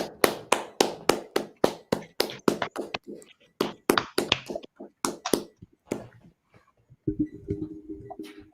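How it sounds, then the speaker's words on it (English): A congregation at a church service claps in a quick, even burst of close, sharp claps that breaks into scattered, uneven claps, then gives way to a voice. "All right, clap it up."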